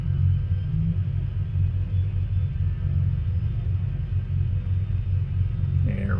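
Engine noise from an EMB-110 Bandeirante twin turboprop in MSFS 2020 as the right engine is started: a steady, loud, deep rumble that holds evenly throughout, with no voices.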